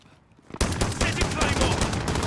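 Dense gunfire in the Call of Duty: Modern Warfare video game: a sudden loud burst of shots erupts after a quiet start, then continues as rapid, sustained firing to the end.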